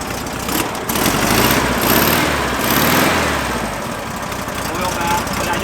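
Engine of a newly bought car, brought home from a rod run, running right after starting, a loud, rough, steady idle with a low pulsing rumble, close by, filling the whole clip.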